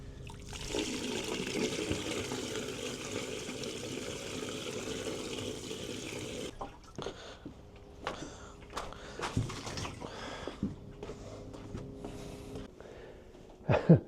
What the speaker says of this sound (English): Right, Brenda, empty that tank for me.